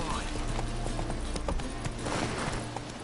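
Galloping horse hoofbeats from The Witcher 3 video game, a steady rapid clip-clop under continuous game sound and music, with a rider's voice calling out.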